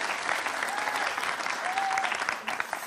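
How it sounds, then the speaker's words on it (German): Warm audience applause at a German comedy cabaret show, a dense, steady wash of clapping from a large crowd, close and sustained throughout before thinning slightly at the end. "Vielen Dank, meine Damen und Herren, für diesen warmherzigen Applaus."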